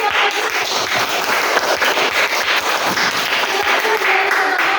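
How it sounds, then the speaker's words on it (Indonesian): Classroom applause for a student group's presentation, a dense, continuous wash of many hands clapping at close range, with faint voices mixed underneath. "Kita beri aplaus"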